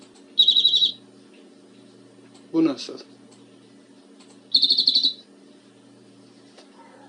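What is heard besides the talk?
bird singing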